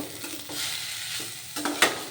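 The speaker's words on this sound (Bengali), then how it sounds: "কপিটা আগে ভালোভাবে ভেজে নেব" Cauliflower pieces fry in a pan over a medium-low flame, a soft continuous sizzle broken by a few scraping stirs and a sharper clatter near the end, quiet and close with no talking.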